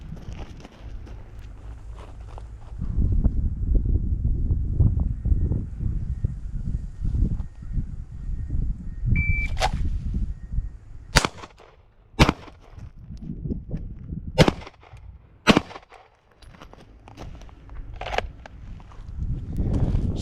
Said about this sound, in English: I'm going to be firing 2 rounds standing, 2 rounds kneeling